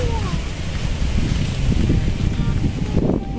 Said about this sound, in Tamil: இங்க காத்து ரொம்ப நிறைய அடிக்குது ஃப்ரெண்ட்ஸ்